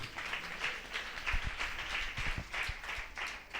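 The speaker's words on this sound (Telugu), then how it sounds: "చప్పట్లు కొడదాం దేవునికి." A congregation at a fasting prayer meeting claps for God, a dense burst of mixed applause that rises and falls over a few seconds, with some heavier thumps in the middle.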